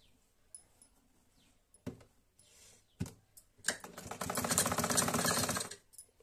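Sewing machine stitching the collar seam of a band gala kurti, a few isolated clicks and taps before a fast rattling run of stitches that stops abruptly, close by.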